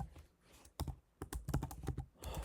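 Quick bursts of keystrokes on a computer keyboard as someone types an email address, the clicks uneven and close with short pauses between runs.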